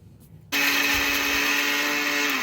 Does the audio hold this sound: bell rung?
no